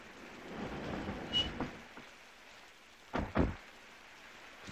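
Steady rain hisses throughout while thunder rumbles in two low swells, one early and a stronger double roll later, with no one talking.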